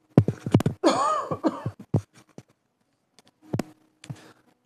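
Several short, sharp coughs come in quick bursts, one drawn out with a strained, voiced rasp, followed by quieter isolated coughs with silent gaps between them.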